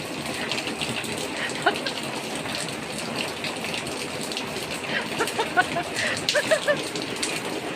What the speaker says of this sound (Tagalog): Ulan pa rin ang ulan.